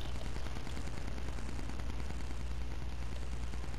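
Rapid gunfire from a multiplayer video game, a dense continuous barrage of shots with a heavy low rumble that fills the whole stretch at steady loudness.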